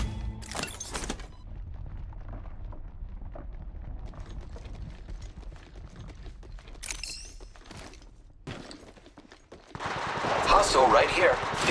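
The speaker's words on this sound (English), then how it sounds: "The enemies are shooting at me." Apex Legends Mobile gameplay, with enemies firing bursts of gunfire close by in several separate volleys, along with game sounds and a heavier flurry of shots near the end.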